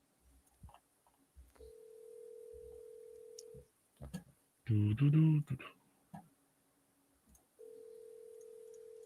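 A telephone plays long steady call tones while cold calling realtors about wholesale deals. The tones are interrupted by a short burst of speech, then resume.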